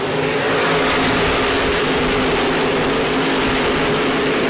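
Stock race cars thunder off turn two at New Smyrna Speedway during a World Series night race, a dense, loud, continuous engine roar with no letup and no voices over it.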